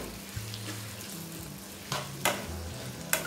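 A spoon stirs a tempering through gongura (sorrel leaf) pickle in a pan on a medium flame, with steady sizzling and a few sharp scraping strokes against the pan, close and alone.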